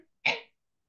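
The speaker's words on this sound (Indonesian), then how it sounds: "Aduh, batuk sekali." A single short, sharp cough bursts out close to the mic during an online maths tutoring session, loud and isolated, with silence on either side.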